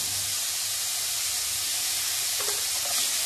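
Cauliflower for gobi 65 frying in a pan, a loud, dense, steady hiss of hot oil throughout with a few faint clinks near the end.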